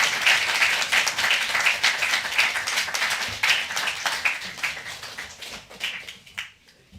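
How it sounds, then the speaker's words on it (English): Audience applause at the 2022 Southern California Poetry Festival rises as a lively patter of many hands, with individual claps standing out, then thins and fades near the end. "Let's have another round of applause for Angel, even though he can't be here."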